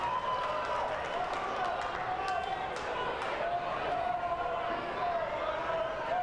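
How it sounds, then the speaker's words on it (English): A large crowd at an evening sports occasion under the lights roars in a steady, dense wash, with rising cheers and scattered claps, and ball bounces and quick footsteps come through the noise. "There's a big crowd."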